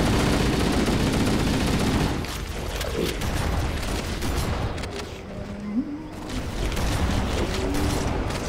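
Heavy shotgun blasts and rapid weapon fire in the video game Halo Anniversary crowd together in a loud, busy firefight, easing slightly midway before rising again, with no talk.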